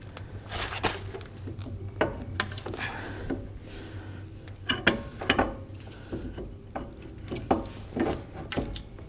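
A Jeep Wrangler front axle shaft is worked back into place, with repeated metallic clanks, scrapes and knocks at an irregular pace, close by and moderately loud over a low steady hum.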